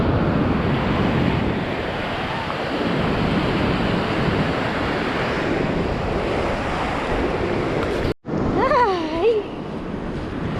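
Waves and strong wind on a gorgeous beach, a constant heavy roar of surf and buffeting microphone wind throughout, briefly cutting out near the end as a voice exclaims.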